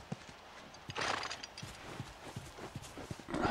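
Horse hooves clip-clop in The Last of Us video game, a series of distinct, moderately close hoof strikes in an uneven walking rhythm, with brief bursts of rustling noise between them.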